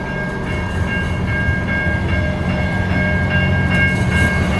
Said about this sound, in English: Made it off to discover that we just missed a train.